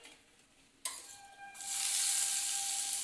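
Chopped onion hitting hot mustard oil for a gravy, a sudden sizzle that swells into a steady, loud frying hiss after a quiet start, with a faint tone over it.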